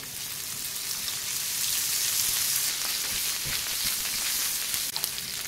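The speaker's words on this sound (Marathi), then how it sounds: "आता बोंबील छान आपण फ्राय करून घेणार आहोत तेलामध्ये" Bombil fish fry in oil on a tava with a dense, even hiss of sizzling fat that holds steady and close throughout.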